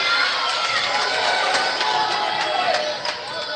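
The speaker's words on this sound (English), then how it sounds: "the crowd's really getting into it now" A crowd cheers and shouts at a squash match, a loud continuous roar of many voices with shrill calls, easing slightly near the end.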